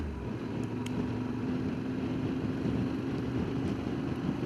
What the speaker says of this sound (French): on va pouvoir entendre un peu le son de la moto